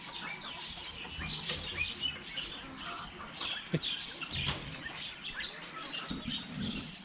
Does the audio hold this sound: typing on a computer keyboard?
no